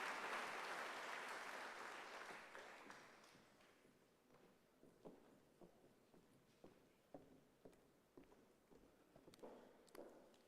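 Applause from an audience at an International Anti-Corruption Day event, a dense burst of clapping that fades out over several seconds, leaving scattered taps and footsteps, all faint.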